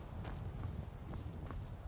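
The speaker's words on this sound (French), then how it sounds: "Ah, il est là, le cheval." Horse hooves clip-clop in the video game Skyrim, a steady walking rhythm of soft thuds at moderate distance over a constant low background hum, with no talking.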